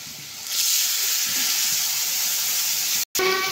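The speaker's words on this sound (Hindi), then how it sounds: "फिर तो डाली हूँ तेल, पचफोरन डाली हूँ, और मैं डालूँ प्याज।" Onions hit hot oil seasoned with panch phoron, letting out a steady, loud broadband sizzle with a brief cutoff near the end and no voices over it.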